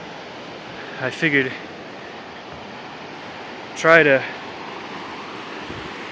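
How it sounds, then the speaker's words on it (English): A stream at Roaring Run in Roanoke, Virginia, gives a steady, even rush of flowing water throughout, with two short spoken phrases over it. "All you can hear is water, which is nice."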